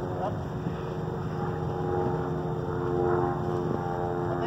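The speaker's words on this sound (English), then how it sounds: "How to back up an airplane." A light airplane's propeller engine running nearby with a steady, loud drone and rumble throughout while it is being backed up.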